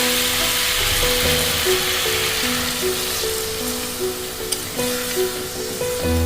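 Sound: water poured into sizzling spiced pointed gourd curry

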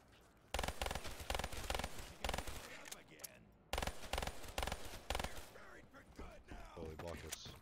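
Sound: gunfire shooting zombies in video game

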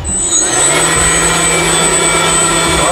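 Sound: drone motor and propeller vacuum cleaner running

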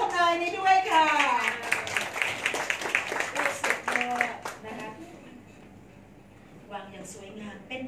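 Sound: guests clapping at a wedding procession

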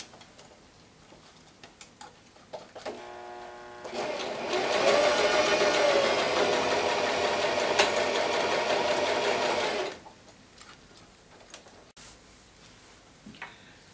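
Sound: sewing machine stitching elastic casing of a coin scarf

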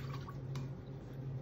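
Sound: water being poured into a cooking pot

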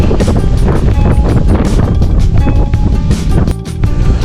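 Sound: strong wind blowing into the microphone

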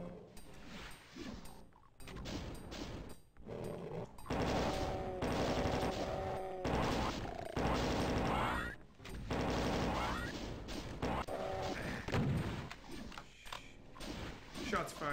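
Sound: gunfire in the video game Doom II

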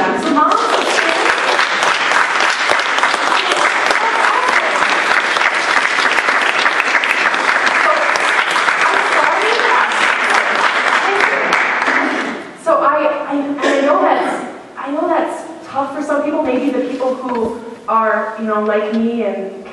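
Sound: audience applauding mothers

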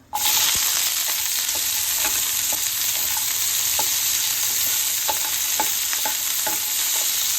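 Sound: onions frying and being stirred in a pan

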